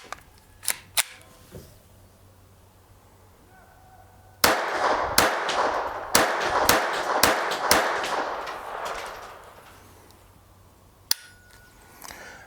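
Gunshots from a KelTec P17 .22 semi-automatic direct blowback pistol fired outdoors, a few spaced sharp cracks and then a rapid string of about eight loud shots, each trailing off, with one final shot after a pause.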